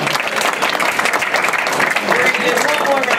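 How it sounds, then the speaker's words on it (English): Loud, close applause from an audience at a high school signing ceremony for a Clemson University commitment: dense, steady clapping that fills the whole stretch without a break. "Round of applause, round of applause."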